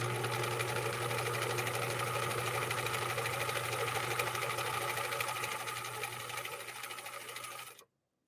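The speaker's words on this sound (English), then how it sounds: "Final stitch line, final sew off, bubblegum material." A 1963 Husqvarna Viking 19E sewing machine, fitted with a Schmetz double eye needle, stitches pink bubblegum fabric in a steady, close, humming run that slows slightly near the end and then stops abruptly, with no talk.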